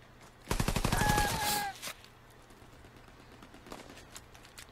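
Machine pistol firing in Call of Duty: WW2 multiplayer: one loud rapid automatic burst of about a second, then a faint trailing shot and low game ambience.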